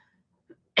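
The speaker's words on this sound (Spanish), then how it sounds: "Perdónenme que traigo esta tos" A single sharp, loud cough bursts out close at the very end after near silence, preceded by a faint throat sound.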